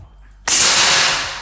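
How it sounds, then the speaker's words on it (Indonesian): A single sharp, hissing shot from an air rifle bursts out after a quiet moment and trails off in a brief fading rush. "Tembakan yang pertama."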